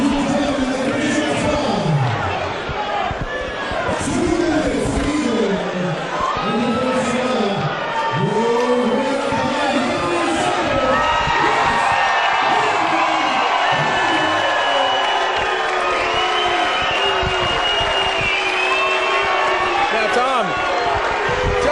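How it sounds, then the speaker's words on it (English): A fight crowd reacts to the decision announcement with a steady roar of murmurs, shouts and scattered whoops, mixed with nearby voices talking throughout. "Looking from the reaction in the crowd"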